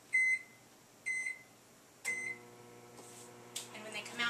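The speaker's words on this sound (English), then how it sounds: "throw these in the microwave for about 20 seconds to get them nice and soft and pliable" Microwave keypad beeps, three evenly spaced, then the oven starts heating tortillas with a steady low hum and a faint higher whine.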